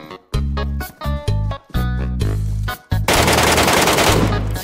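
Rapid bursts of automatic gunfire in the shooter game Metro Royale, loud and close, several short volleys with brief gaps before a sustained blast of noisy firing.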